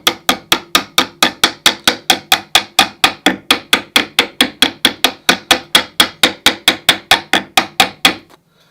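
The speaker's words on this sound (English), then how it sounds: "If there's any sharp edges, you want to just very gently tap those over." A hammer delivers about thirty quick, evenly spaced glancing taps on the sharp edges of copper rivet nails set in wooden boat planking. The blows are crisp and close, with no talking.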